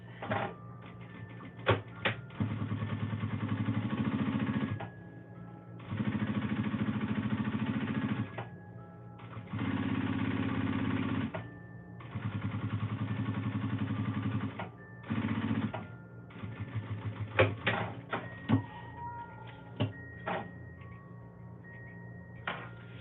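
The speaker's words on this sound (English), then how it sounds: "I'm going to top stitch again, folding that back, folding this back, and top stitching" A sewing machine top stitching fabric, running in steady whirring bursts of several seconds separated by pauses, with small clicks and handling noises between runs.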